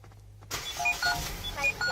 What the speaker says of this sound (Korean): 버튼 누르자마자 시동 깔끔하게 잘 걸려주는 모습까지 확인해 보실 수가 있습니다